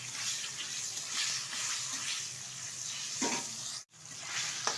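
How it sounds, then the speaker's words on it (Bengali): A hilsa fish head being stirred in hot oil, a steady hiss of frying with scraping stir strokes and a short gap before the sizzle resumes. "এখন তেলের মধ্যে একটু নেড়ে চেড়ে নেব ইলিশ মাছের মাথাটা"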